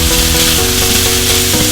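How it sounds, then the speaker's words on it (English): Thin beef strips for bibimbap sizzle steadily and loudly in a hot pan, a dense unbroken hiss with faint scraping underneath. "And then we're going to saute them."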